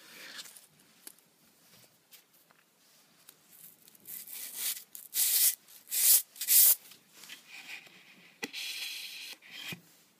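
A blade is rubbed against an abrasive in a series of close, rasping strokes that grow louder and more rhythmic midway, separated by brief pauses.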